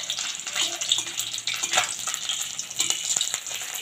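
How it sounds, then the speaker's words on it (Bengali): Khoira fish frying in hot oil in a wok, a close, continuous sizzle with bursts of spattering and bubbling as the pieces cook on each side. "মাছগুলোকে এই পিঠ ওই পিঠ 2 পিঠই খুব ভালোভাবে আমি ভেজে নেবো"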